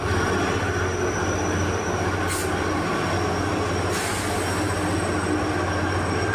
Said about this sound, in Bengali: আশেপাশের পাহাড়ি গ্রাম আর জঙ্গল উপভোগ করতে করতে ট্রেন এগোতে থাকলো।